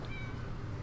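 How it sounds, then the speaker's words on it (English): A single short cat meow from a pet in The Sims 4 video game, faint and brief over a low background hum. "what the heck is that cat sound come from?"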